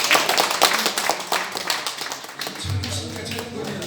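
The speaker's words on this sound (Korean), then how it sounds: "다시 뜨거운 박수 한번 부탁드립니다" Clapping from a church congregation at a prayer-service worship gathering, many hands striking in a dense, uneven patter that stays steady throughout, with a low hum entering near the end.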